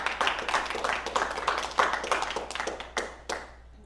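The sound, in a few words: applause for the Lord in church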